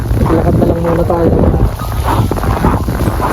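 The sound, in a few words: strong wind blowing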